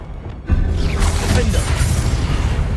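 A Confringo blasting spell in Hogwarts Legacy hits with a sudden booming impact after a short quiet lead-in, then a crackling, whooshing rumble of debris and magic carries on loud and dense to the end.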